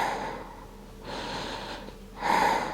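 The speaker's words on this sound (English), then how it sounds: "Breathing here." Sharp breaths taken during a Pilates core and abs exercise in a tucked crunch position at home, with two bursts of breathy exhalation separated by quieter pauses, close and fairly faint.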